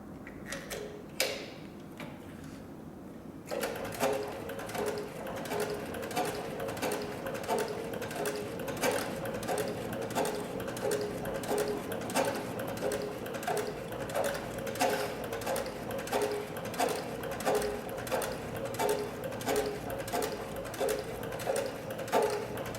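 Leather sewing machine stitching through four layers of 8 to 10 ounce tooling leather, a steady rapid mechanical ticking rhythm running continuously after a brief start.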